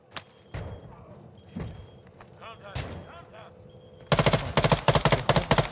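Gunfire in Call of Duty Warzone 2.0 DMZ: scattered single shots and thuds at first, then a loud, rapid burst of automatic fire near the end. Players talk over the quieter opening.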